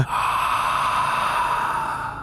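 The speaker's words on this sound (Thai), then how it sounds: "เสียงลมหายใจแปลกๆดังขึ้นจากเหนือหัว" An eerie, drawn-out breath sound effect in a Thai ghost story, a single long airy exhale that starts sharply and fades slightly, close and fairly loud with no speech over it.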